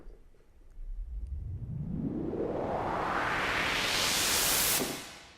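A noisy synth filter sweep made in Reason rises steadily in pitch over several seconds, swelling from a low rumble to a bright hiss before cutting off abruptly.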